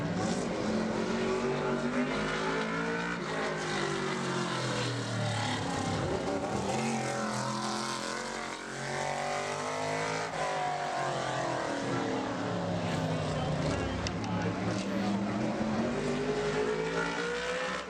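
Modified race car on a qualifying lap at Bowman Gray Stadium, its loud, close engine roaring and shifting pitch continuously as it laps the short track, with crowd and ambient noise underneath.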